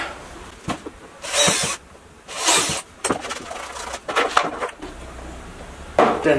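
A drill fitted with a 3.5 mm bit bores into a workpiece set on a backing pad, running in several short bursts of high whine with pauses and handling clatter between, close and fairly loud.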